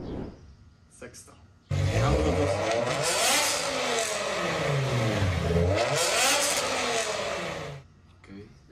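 BMW M5 with a V10 engine revving hard: a sudden loud roar that climbs and falls in pitch twice before cutting off, with people talking over it.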